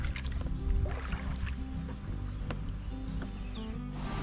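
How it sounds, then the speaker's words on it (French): Beneath the Serrières bridge on the Ain river, a waterfall rushes faintly in the distance as a low, steady roar, with nearby trickling and lapping water on top. "Et on entend la cascade au loin."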